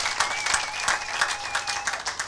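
A church congregation applauding in praise during a sermon, dense continuous clapping from a crowd, with a sustained tone ringing faintly underneath.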